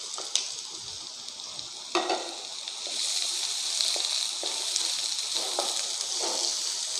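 A large batch of finely chopped big onions fries in a pan, browning with a steady, moderately loud sizzle. A few stirring knocks and scrapes break it up, and no voice is heard.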